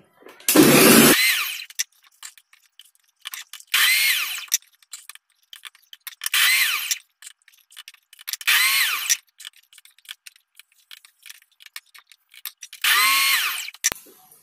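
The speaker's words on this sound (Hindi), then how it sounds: "फिर से इसको प्रेशर डालेंगे और फिर इसके बाद मोटर को ऑन करेंगे" A food processor motor juicing pomegranate, running in five loud bursts of a few seconds each with quiet pauses between them and a whining, grinding tone in each burst.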